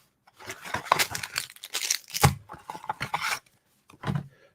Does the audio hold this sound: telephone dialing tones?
no